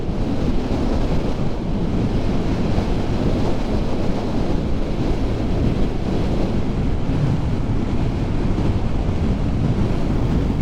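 Strong wind buffets the microphone of a delivery rider on the road, a constant, heavy roar, with no talking and no break throughout.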